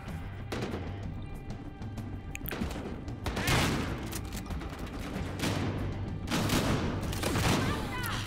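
Repeated loud shotgun blasts from Battlefield Hardline, several sharp booming shots spaced a few seconds apart over a steady background din.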